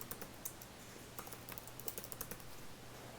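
A password is typed on a computer keyboard, a quick run of light, irregular key clicks, close and fairly quiet, over a faint steady hum.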